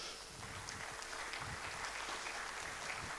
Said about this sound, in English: please clap your hands for our first guest